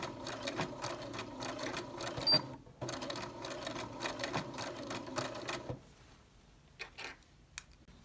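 A sewing machine stitches a skirt seam in fast rattling bursts, pausing briefly and resuming as it back tacks, then stops; a few sharp clicks follow near the end.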